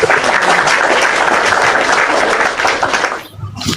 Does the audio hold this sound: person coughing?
no